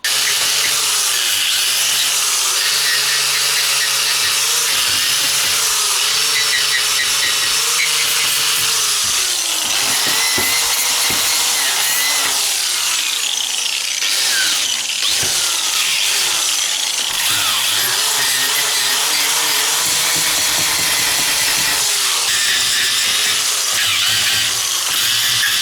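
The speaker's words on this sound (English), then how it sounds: "Very, very important when you're dealing with wire brushes, right, because of the speed that they're on." A power tool drives a wire brush across old house planks in a steady, loud, harsh scrubbing whine that runs on without a break, with its pitch and pressure shifting slightly as the brush moves over the wood.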